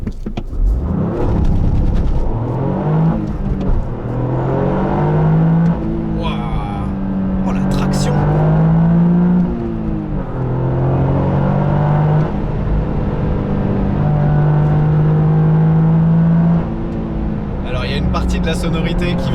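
A Toyota GR Yaris in sport mode launches from a standstill, its engine revving up through several rising sweeps separated by brief gear-change dips, loud and close inside the cabin, with occasional voices.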